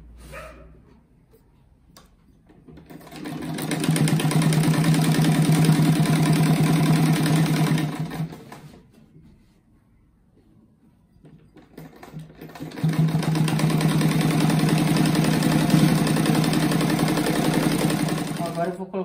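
A sewing machine sews a fabric strip onto a fabric rug in two long, steady runs with a quiet gap between them and a softer start at the beginning.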